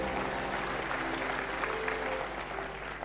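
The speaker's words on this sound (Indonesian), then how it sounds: "kasih tepuk tangan buat Allah." A packed church congregation claps together in sustained applause, a steady dense patter with a low hum of the hall underneath.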